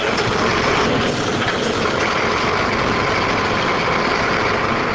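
A Post Danmark diesel truck engine runs steadily with a low, constant rumble and broadband drone, heard close and loud throughout with no talk.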